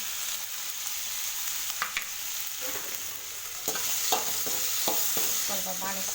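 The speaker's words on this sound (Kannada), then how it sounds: "ಸ್ವಲ್ಪ ಬಾಡಿಸ್ಕೋಬೇಕು" Tomatoes tossed into hot oil in a pan and sautéed, a soft steady sizzle with scattered scraping stirs and spatula clicks growing busier toward the end, no voices.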